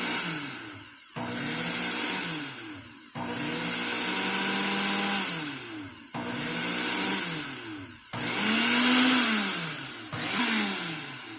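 Black & Decker quiet blender running on its icy drink setting, pulsing in roughly five on-off bursts of motor whir and churning ice, each burst with the motor pitch sagging and recovering, close and steady.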